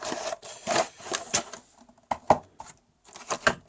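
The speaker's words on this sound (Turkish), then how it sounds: "Kutuyu bir açalım." Scraping, tearing bursts of a cardboard box for a palm-sized keyboard being pulled open, several separate rips and rubs with short quiet gaps between them, close up.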